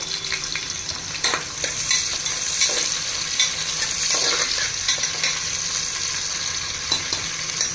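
Thinly sliced onions and slit green chilies fry in a pan as the base for a prawn pulao. A constant hissing sizzle carries irregular spatula scrapes and knocks from steady stirring, close and fairly loud, with no talking.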